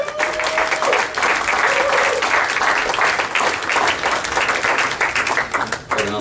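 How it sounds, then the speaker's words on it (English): A comedy club crowd breaks into loud, sustained applause with scattered cheers for a man introduced on stage, dense clapping filling the room without letup for several seconds. "I need a big round of applause"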